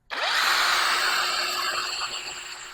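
A cordless impact wrench spins up sharply and runs at its high speed setting, a loud, steady, close whine that holds for a couple of seconds before easing slightly toward the end, with no talk.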